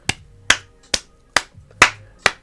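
A lone streamer claps his own hands six times at an even, unhurried pace, each clap sharp, close and dry, with quiet gaps between them.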